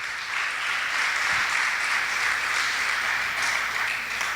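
A church congregation gives a sustained round of applause to the Lord during a sermon, a steady, even clatter of many hands at moderate level with hardly any talk.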